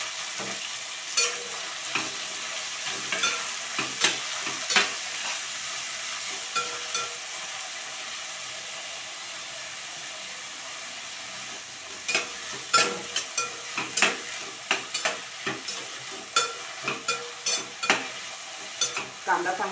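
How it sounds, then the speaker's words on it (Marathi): Spring onion greens sautéing in a pan of garlic tempering over lowered heat for a traditional Bhogi mixed vegetable dish, a steady soft sizzle with irregular scraping stirs that grow busier toward the end. "कांदा चांगला परतून घ्यायचा."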